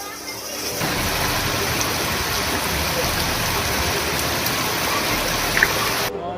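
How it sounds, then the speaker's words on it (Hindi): Torrential monsoon rain pours down over desert areas of Barmer, a dense, continuous hiss of heavy rainfall that stays loud and even for several seconds. "मूसलाधार बारिश ने बाड़मेर के रेगिस्तानी इलाकों को जलमग्न कर दिया।"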